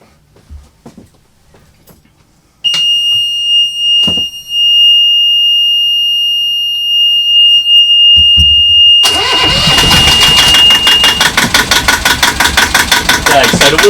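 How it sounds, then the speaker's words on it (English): A high electronic beep sounds, then a yacht's inboard engine cranks and catches, settling into a loud, rough, rhythmic running chug close by. "So I'm going to start the engine now."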